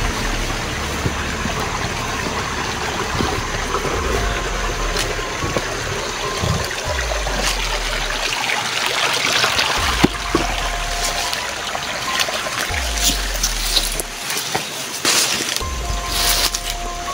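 River water flows steadily in a continuous broadband wash, heard alone at moderate level throughout with occasional faint knocks and rustles near the water.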